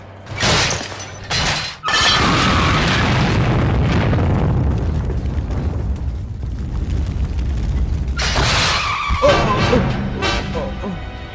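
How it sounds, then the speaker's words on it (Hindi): Loud booming explosions burst in succession as cars blow up, followed by rumbling and debris noise, with another blast later and voices mixed in. "देखो तो पटाखों की तरह गाड़ियों को कैसे उड़ा रही है।"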